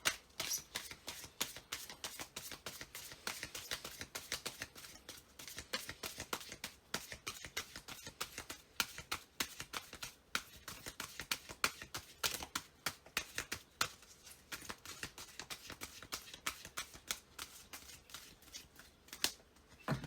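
A deck of cards being shuffled over and over, with steady riffling bursts and soft card snaps close by, fairly quiet and continuous with no talking.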